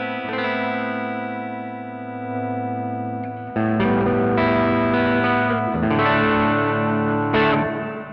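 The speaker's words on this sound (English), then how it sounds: "So that's the reverb, at least on clean sound." Clean electric guitar through a Caline CP80 Ragnarok reverb pedal, sustained chords and notes ringing out with a lush reverb tail, a held chord followed by several strummed changes, close and steady with no talking.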